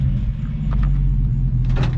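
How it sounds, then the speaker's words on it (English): A 1965 Ford Mustang restomod engine runs at steady high revs, a continuous loud, close low rumble that holds level for about two seconds with a slight rise in the last moments. "See what she does when I rev it."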